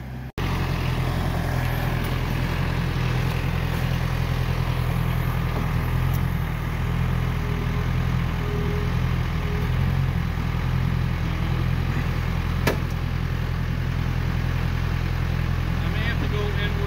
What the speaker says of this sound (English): Follow the pretty blue tractor.